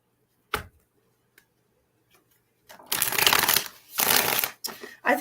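Tarot cards are shuffled close by in two loud riffling bursts and a third starting at the end, each a dense papery rush, after a quiet stretch broken by a few isolated clicks.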